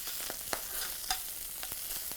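Pork belly searing in a hot pan gives a close, steady sizzle with small crackles and pops spaced irregularly, with no voices.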